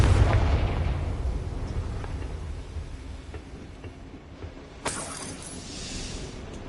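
Confringo blasting spell explosion in Hogwarts Legacy, a heavy rumbling blast that decays over several seconds, followed by a sharp shattering crack and scattering debris.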